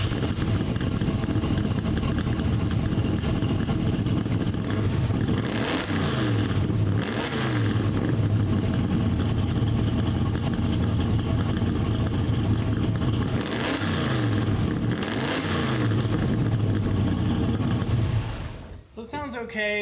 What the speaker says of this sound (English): So let's get a cold start and a couple revs out of it.